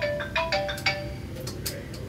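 A telephone rings with a short electronic ringtone: a few quick, bright chirping tones in a fast cluster, moderately loud over faint room noise.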